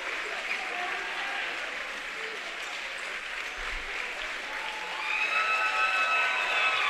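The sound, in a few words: loud crowd cheering at basketball game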